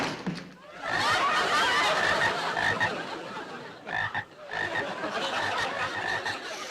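Several frogs croak together loudly and continuously in a dense, rattling chorus, dipping briefly before resuming, with no speech over them.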